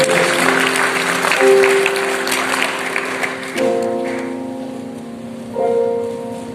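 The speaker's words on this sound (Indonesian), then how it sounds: "tepuk tangan yang paling luar" A congregation at a church service claps as sustained keyboard chords play beneath, the clapping loudest at first and thinning as the music carries on.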